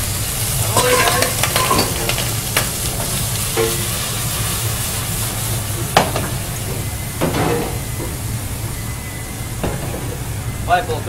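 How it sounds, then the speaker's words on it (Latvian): Cooked noodles go into a pot with hot olive oil, sizzling steadily while repeated clinks and scrapes of stirring cut through, fairly close and loud. "Liekam katlā ar olīvēļu."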